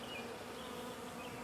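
A dense, steady buzz of honeybees swarming around a box they have moved into from an old cat house, filling the air continuously without a break.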